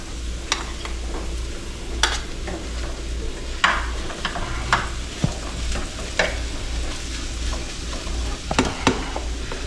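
Rice frying in a hot pan for homemade fried rice, a steady close sizzle with repeated scraping and stirring clicks of a utensil against the pan, no talking.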